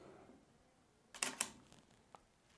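A camera shutter fires at 1/100 second: two sharp, close mechanical clicks in quick succession, then a fainter single click a moment later, all near and clear over a quiet room.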